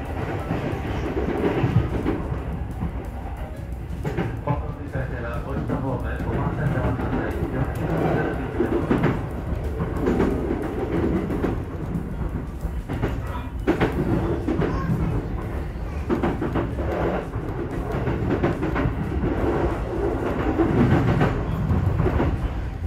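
A Sotetsu 12000 series electric train runs along the Sotetsu-JR through line, heard from on board as a steady rumble with recurring clickety-clack of wheels over rail joints, loud and continuous throughout.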